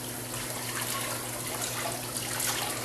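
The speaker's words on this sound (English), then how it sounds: "We're going to take cold water and give him a rinse." Cold tap water runs steadily over a brined turkey in a sink, a constant close splashing wash with no pauses.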